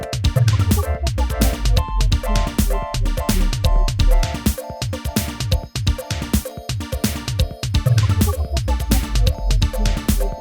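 A punchy electronic drum loop repeats steadily with tight kicks and crisp hats, a bright metallic cowbell-like accent riding on top, loud and continuous with no voices.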